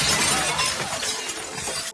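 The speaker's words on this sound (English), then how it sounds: "a stone flies through the window and shatters it" A stone shatters a glass window in a loud, dense crash that spreads into a sustained spray of breaking and tinkling glass, cutting off at the end.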